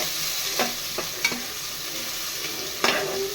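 Mint leaves frying in hot oil in a pan for chicken biryani, a steady soft sizzle broken by a few sharp scraping stirs near the start and end, no voices.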